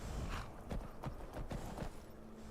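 Horse hooves clip-clop in a video game, a run of regular close hollow knocks over a soft background hum.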